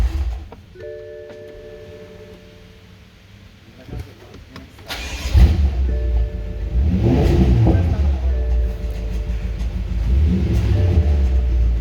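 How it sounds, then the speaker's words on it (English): A BMW M5 F10 with 92k km is switched off and restarted, its engine cranking and catching with a surge and then settling into a rough, uneven running rumble that suggests a misfire. "Obviously it's misfiring, and if I turn it off and I start again"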